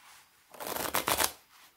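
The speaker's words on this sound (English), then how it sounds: "I'll just bust out a couple shuffles here to show you" A deck of Tom Foolery playing cards is riffle-shuffled close up, a quick burst of fluttering card slaps rising and settling over about a second.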